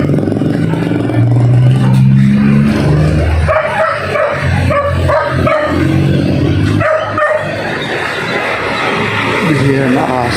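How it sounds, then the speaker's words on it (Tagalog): A dog barks and yips amid loud outdoor clamor at a street rally in the Philippines, with people talking over it throughout and the barking near and intermittent. "Delikadong aso."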